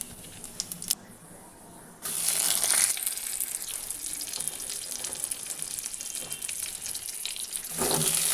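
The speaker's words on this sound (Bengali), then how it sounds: "এখানে সরষের তেল দিয়ে নিয়েছি আর তেলটা গরম হয়ে গেছে। ফোড়নে দিচ্ছি আমি কালো জিরে" Black cumin and radhuni seeds hit hot mustard oil and erupt into a loud, close, continuous sizzle, rising sharply after a quieter start and hissing on without a break.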